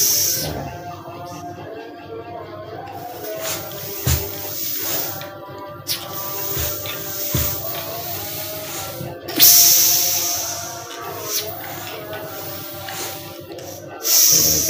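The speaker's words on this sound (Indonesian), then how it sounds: "atasan tadi kayak ada angin yang bocor ya" Steady hiss of air escaping from the top fitting of a PCP hand air pump with its hose attached, heard close up and continuous, with small clicks and bumps of handling throughout.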